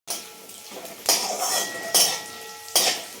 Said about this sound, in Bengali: তো এটাকে ভালো করে মা নেড়ে নিল ঘিয়ের মধ্যে